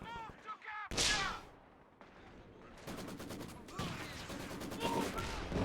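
Bursts of MG-34 machine gun and artillery fire from the video game Company of Heroes 2 crack and rattle in short volleys and rapid strings, mixed with explosions and shouted in-game voices.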